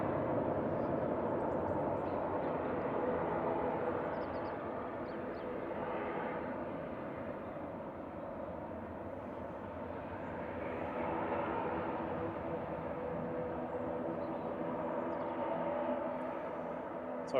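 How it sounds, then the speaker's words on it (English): A 24-year-old ATR 42-500 turboprop at Manchester Airport roars in the distance as its thrust reverser runs, a broad rushing whine that swells and fades across the runway. "just wait for the thrust reverser to stop"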